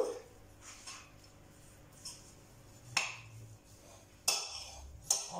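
A spoon mixing kebab chutney ingredients in a bowl, with soft scraping and a few sharp clinks of metal against the bowl, quiet and irregular with no speech.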